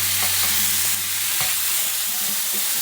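Seitan sizzles loudly in a pan after a splash of soy sauce, a dense, close hiss running throughout with a few sharp spatters and scrapes, no voices.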